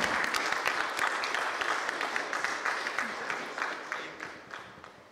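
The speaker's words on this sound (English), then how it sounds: "Can we have a round of applause one more time," Applause from attendees at the Hindu Businessline Agri & Commodity Summit, a full room clapping in crisp dense bursts that start strong and slowly thin and fade toward the end.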